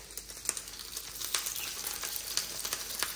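A cooked pork sausage patty sizzles steadily in a pan as it fries for breakfast, a close, continuous crackle with small pops scattered throughout and no talking.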